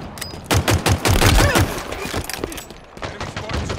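Rapid bursts of automatic gunfire from the Halo Infinite video game, loud and close, with clustered shots at the start followed by scattered sharper reports and a lingering battle din.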